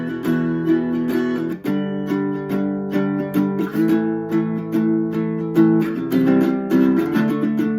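An acoustic guitar strums the chorus of a song, playing a close, bright, driving chord rhythm with steady percussive accents and no voice.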